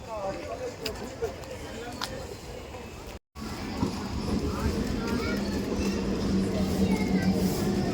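Steady rumble and rhythmic clatter of a moving train heard from inside, with a brief cut midway and the noise growing louder afterward.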